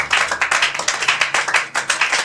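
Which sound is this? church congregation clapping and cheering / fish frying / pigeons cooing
church congregation clapping and cheering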